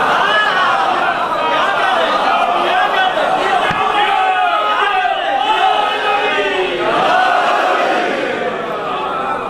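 A large crowd at a religious gathering for a sermon on the twelve Imams, many voices together in a loud, continuous chant that sustains throughout with rising and falling swells.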